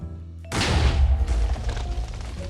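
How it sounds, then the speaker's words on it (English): A TNT cannon in Minecraft's Create Mod fires and blasts: a sudden loud boom after a short quiet lead-in, then a dense, rumbling explosion that rolls on with crackling debris and slowly fades, no talk. "And then we just press the button and watch it go boom."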